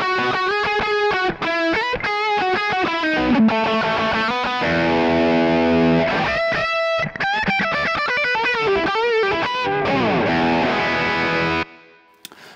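An electric guitar played through a Kemper Mars Plexi 50K amp profile with a two-tap delay and reverb, distorted, with sustained chords and riffs played loud and continuously until an abrupt stop.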